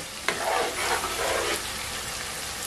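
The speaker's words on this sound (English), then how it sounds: "let's fry this for the next 30 seconds" Blended crayfish frying in a pot, a close, steady sizzle with a few stirring scrapes near the start, continuous and alone.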